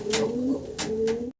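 Pigeons at a breeder's loft give a close, clear run of throaty coos with a few short, breathy accents, then stop abruptly.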